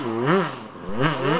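A motorcycle engine revs twice, each rise and fall in pitch clearly audible, loud and close.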